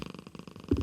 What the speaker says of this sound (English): I don't know if you can hear the cat purring super loud.